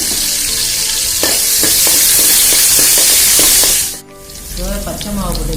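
Garlic frying in oil in a pan makes a loud, steady sizzle for about four seconds, then drops out and returns quieter, with a few stirring clinks along the way.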